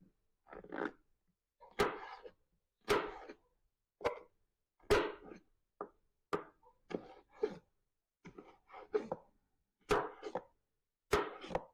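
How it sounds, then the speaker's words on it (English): A knife chops vegetables, including bell peppers, on a cutting board during holiday meal prep, with steady irregular thuds spaced about a second apart, close and fairly crisp, with no talk. "while you're chopping"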